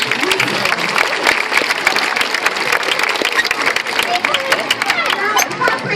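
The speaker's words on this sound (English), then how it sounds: "Give a massive round of applause." Audience clapping in applause at a sea lion show at West Midlands Safari Park, a dense and loud outdoor burst sustained for the whole stretch, with some crowd voices mixed in.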